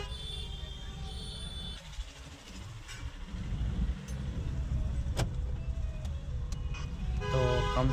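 A Mahindra Bolero BS6 drives on a road trial after repair of a DEF fault, its steady engine and road rumble continuous throughout with a few faint clicks and rattles inside the cabin, growing slightly louder toward the end.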